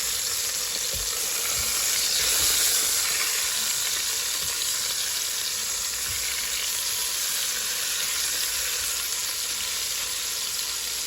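Beef short ribs sear in a hot pan with a steady, loud sizzle and crackle throughout, a few soft low thumps near the start and no talking.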